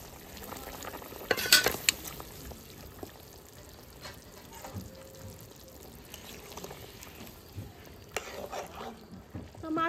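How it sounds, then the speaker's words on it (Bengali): Pieces of fried fish go into a simmering fish curry, giving a brief loud splash and sizzle near the start, then a low bubbling simmer with occasional stirring scrapes and small clatters, close up. "এখন ভেজে রাখা মাছগুলো দিয়ে দেবো।"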